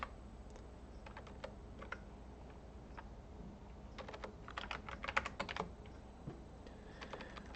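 Quick, light keystrokes on a computer keyboard, heard close and fairly quiet, with irregular bursts of rapid typing that bunch up toward the middle and end, no one speaking.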